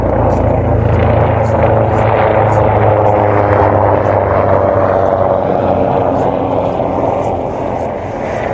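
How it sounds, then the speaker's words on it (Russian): A helicopter passes overhead during an outdoor stroll through town, a steady, loud droning whir that holds throughout and eases slightly toward the end. "Ой, а там вертолет летит."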